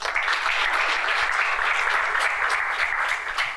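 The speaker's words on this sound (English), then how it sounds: "A round of applause for them, please." A debate audience applauds its speakers with continuous, even clapping from a close crowd that holds steady throughout the short stretch.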